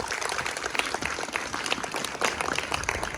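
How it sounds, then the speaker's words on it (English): An audience at a foundation presentation in Buff Bay, Portland claps on request, a busy, lively patter of many hands at close range with a few brighter individual claps, no speech. "Let me hear everybody clap their hands."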